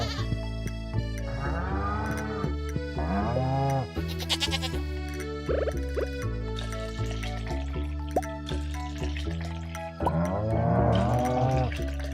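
Goats on a Stardew Valley farm give repeated bleats, several overlapping cries in uneven bursts, set over the game's bright music and chiming effects.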